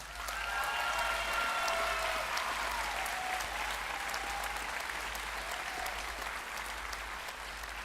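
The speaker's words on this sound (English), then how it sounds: "join me in giving her a round of applause" A large commencement audience claps for a college speaker, sustained, even applause that stays loud throughout with a faint cheer early on.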